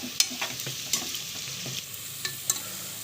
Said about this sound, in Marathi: आपण ह्याच्यामध्ये जी लसणाची चटणी घेतलेली ना ती मिक्स करायची